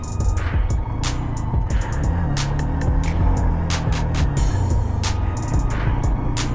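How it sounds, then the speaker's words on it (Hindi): A Hero Xtreme 125R motorcycle on a Delhi-to-Ladakh ride, its engine hum steady and close under constant wind rush, with no talk. "बाकी भाई गाड़ी चल रही है बहुत मस्त"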